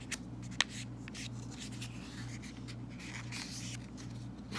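Paper being folded in half and creased for a radial snowflake, soft rustles and brushing strokes with a sharp crisp snap early on, over a faint steady hum.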